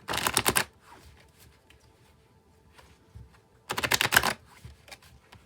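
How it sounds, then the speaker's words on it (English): Tarot cards riffle in two brisk, rapid shuffles that sound like fast fluttering clicks, separated by several seconds of quiet handling and faint rustling. "I'll shuffle till I feel like it's ready"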